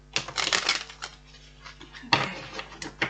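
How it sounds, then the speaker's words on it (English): A deck of tarot cards is shuffled close by, two bursts of crisp rapid riffling and flapping separated by a quieter pause, with no talk. "One more shuffle."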